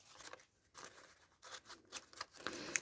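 Scissors trim paper for a journal pocket, making soft, quiet snips and rustles close by in several short bursts.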